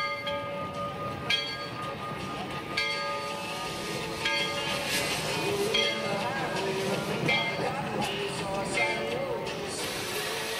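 A historic early Baltimore and Ohio Railroad locomotive from the first days of US railways runs with a steady, fairly loud mechanical rumble, layered with clanking and ringing metallic tones throughout.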